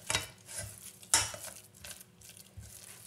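Eggs being stirred into choux pastry dough in a pan for cream puffs, a few scraping and clinking strokes with one sharp knock, moderately close, no talking.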